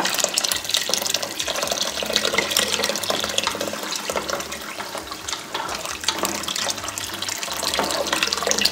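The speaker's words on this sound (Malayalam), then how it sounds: "വെള്ളം തിളപ്പിച്ച് വെച്ച വെള്ളമാണ് ഞാനിതിൽ ഒഴിക്കുന്നത്." Boiled water pours steadily into a pot for chicken biryani, a loud continuous splashing stream lasting several seconds without any talking.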